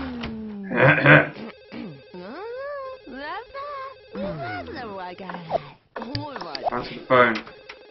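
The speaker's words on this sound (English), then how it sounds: "Answer the phone." A telephone rings in The Sims Deluxe Edition, a trilling electronic ring mixed with the game's Simlish chatter and musical sound effects, close and fairly loud, with gaps between bursts.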